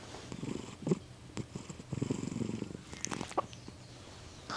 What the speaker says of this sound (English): she's purring in the background